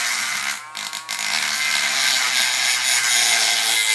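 A brass rivet set in Kydex is abraded by hand, a loud, close, continuous harsh rasping scrape that dips briefly near the start, then runs steadily with no talking.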